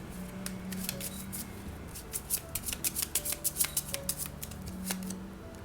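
Tarot cards being shuffled by hand in a quiet room, a run of quick crisp riffling snaps clustered in the middle of the sequence, soft shuffling and handling around them, no talking.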